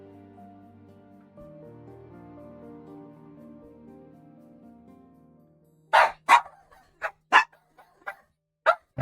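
Dogs indoors break into a series of sharp barks and yips, several separate bursts in quick succession after a stretch of quiet tonal background sound.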